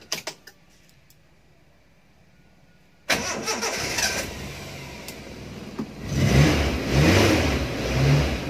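A used car's engine cranks over and catches after a short quiet stretch, then idles loudly and is revved up several times in close, rising bursts.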